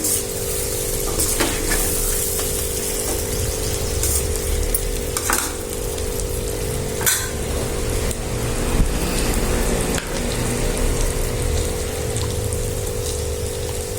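An egg fry made from four eggs sizzles steadily in a hot pan, a close, continuous crackling hiss broken by occasional scraping taps of stirring.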